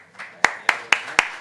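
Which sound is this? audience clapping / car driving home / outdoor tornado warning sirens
audience clapping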